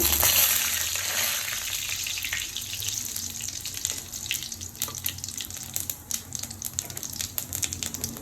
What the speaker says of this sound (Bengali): পেস্ট করা মশলাটা দিয়ে দিলাম। ভালো করে কষিয়ে নেব মশলাটা।